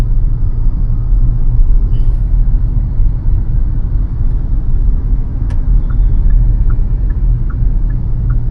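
A car driven by a beginner moves through traffic in second gear, with a loud, steady engine and road rumble filling the cabin and a faint, regular ticking coming in toward the end.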